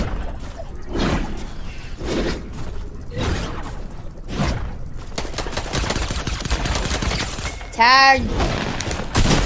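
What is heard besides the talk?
gunfire from exotic pistol in a video game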